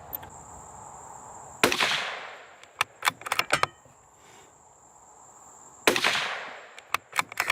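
Two loud, sharp rifle reports from a CZ 457 bolt-action in .22 WMR, with quick follow-up clicks and handling sounds between shots, fired near at an outdoor range over a steady insect chirp.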